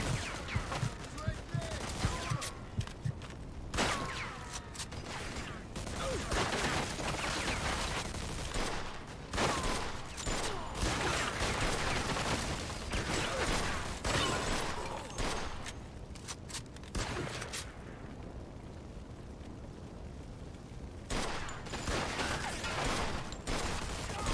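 Shotgun blasts crack out in a Mafia II gunfight, loud irregular shots scattered over a long stretch with gaps between bursts, amid clattering action and occasional talk.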